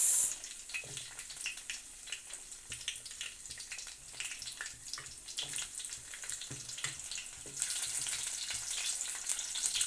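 Onions sizzle in hot oil after mustard seeds and curry leaves in a Telugu baby-eggplant curry, a steady crackling fry with scattered pops that grows denser and brighter toward the end, with no talk.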